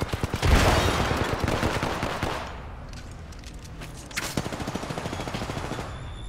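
Rapid video game gunfire rattles off in a loud sustained burst, eases to scattered softer shots, then returns as a second run of fast automatic fire, with no talking.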